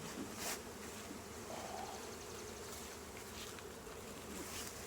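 Dense, steady hum of many honey bees buzzing around an opened hive during an inspection, continuous and fairly faint, with individual insects passing close now and then.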